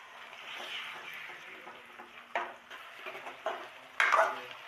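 Spoon stirring softened onions with garlic and masala in a pan for a spiced cauliflower dish, giving a soft steady scraping and low frying hiss with a few sharper clinks of utensil against the pan, close and without talk.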